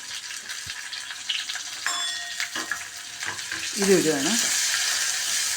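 Chopped shallots and crushed garlic fry in a pan for a spinach dish. A soft sizzle runs under a brief spoken remark, then swells into a loud, close hiss as more goes into the hot oil.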